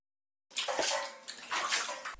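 Water gushing and pouring through a flooded apartment from a burst pipe, a sudden loud splashing flow that starts abruptly after a moment of silence and keeps rushing in uneven surges, with no talking.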